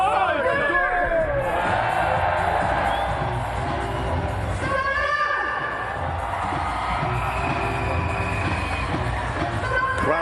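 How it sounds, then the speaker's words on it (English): A volleyball arena crowd roars and cheers loudly and continuously during Bulgaria versus Germany in the 2025 Volleyball Nations League, with whistles, shouts and general hubbub filling the hall. "Crowd being whipped up, Bulgarian flag still very much in the ascendancy"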